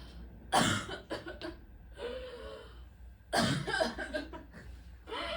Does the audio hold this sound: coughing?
yes